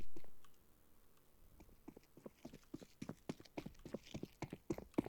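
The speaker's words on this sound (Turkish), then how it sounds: "ayak sesi yapıyorum duy artık." Footsteps in the shooter game Counter-Strike 2, a rapid, uneven run of crisp taps and scuffs growing busier and louder, following a brief loud burst at the start.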